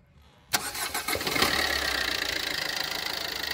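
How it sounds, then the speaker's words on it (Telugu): A 2018 Maruti Suzuki Ertiga ZDi diesel engine cranks briefly after a quiet moment, catches and settles into a loud, steady clattering idle close by, with no voices. "ఇంజన్ కూడా స్టార్ట్ చేసి అయితే చూపిస్తున్నాయి"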